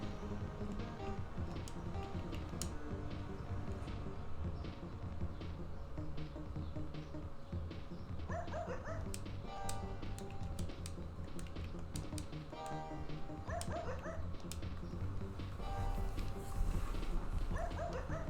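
Electronic dog barks and yips from the Game Boy Advance game Paws and Claws: Pet Vet come in short bursts over a steady background of game music, with faint clicking throughout.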